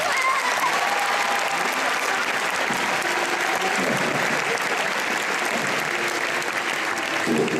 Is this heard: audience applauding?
yes